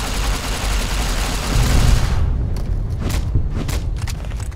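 An explosion in the video game Fallout New Vegas: a loud, full-bodied boom that swells for about two seconds, then breaks into a series of sharp, crackling bursts.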